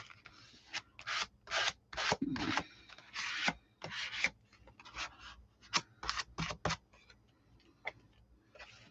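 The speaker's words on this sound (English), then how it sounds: "Any overhanging like that, I will cut off." Scissors snip off overhanging material in a series of short, crisp cuts and rasping scrapes, quiet and close, with irregular pauses between strokes.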